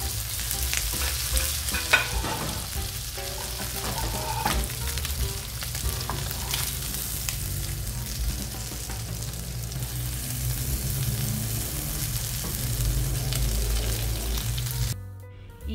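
Ham rolls frying in hot oil, a steady crackling sizzle with occasional stirring clinks and pops, close and continuous until it drops off abruptly at the end.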